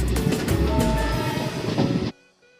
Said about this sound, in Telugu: ట్రైన్ అయితే స్లోగా స్టార్ట్ అవుతుంది